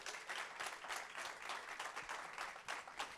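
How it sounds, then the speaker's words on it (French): A church congregation at a pastor's service claps for fellow brothers and sisters; the applause is faint and distant, a steady wash of hand claps lasting a few seconds with no talk over it. "Est-ce qu'on peut applaudir pour ses frères et sœurs?"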